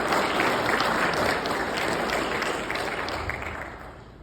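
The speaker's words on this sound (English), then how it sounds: "let's give ourselves a round of applause for that." An audience at a coal industry conference in Miami applauds. The clapping is dense and sustained, then tapers slightly toward the end, with no speech over it.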